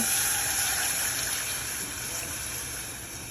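Tap water runs steadily into a pot while measuring two cups for a pickled greens brine, a continuous bright hiss and splash that fades slightly toward the end, with no voices.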